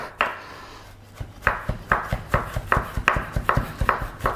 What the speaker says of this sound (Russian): Ну что, чесночок мы с тобой нарезали мелко.